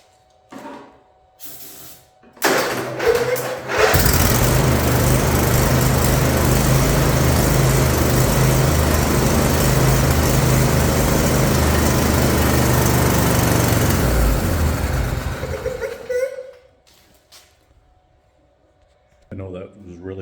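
A small engine that sat unused for four years after a spark cleanup, likely a lawn mower, sputters to life and runs loudly and roughly up close for about twelve seconds before cutting out, with brief handling noises around it.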